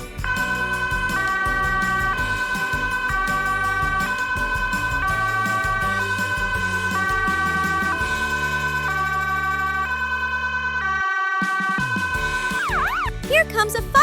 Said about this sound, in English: Woo woo! An ambulance! It helps sick people.